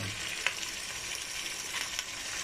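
Pork belly crackles and sizzles in its own rendered fat in a pan, a steady close frying hiss dotted with small pops.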